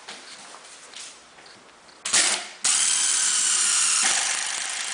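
A power drill drives screws while a wall cabinet is being installed, a short whirring burst followed by a longer, louder, steady whine that eases off toward the end.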